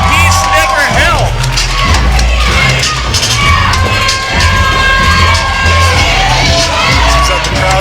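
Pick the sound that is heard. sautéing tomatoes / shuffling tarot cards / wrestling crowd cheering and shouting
wrestling crowd cheering and shouting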